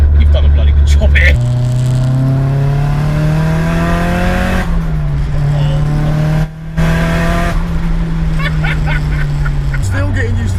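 Engine of a Nissan S14 show car with an SR five-speed gearbox, loud and close, revving and pulling through the gears with pitch climbing and dropping at the shifts, a brief cut near the middle and a tire squeal near the end.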